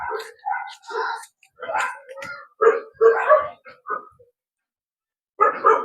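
A pet dog is let outside and gives a series of short, close barks and yelps in uneven bursts, broken by pauses and mixed with nearby voices.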